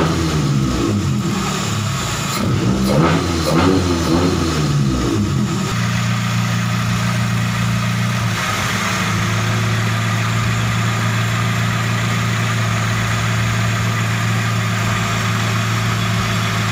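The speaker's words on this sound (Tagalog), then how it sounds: "Start lang natin yung engine para umikot siya" A Mitsubishi Lancer engine runs after a radiator replacement to circulate coolant: a steady, loud, close idle hum, with a brief rough revving flutter early on before settling into an even drone.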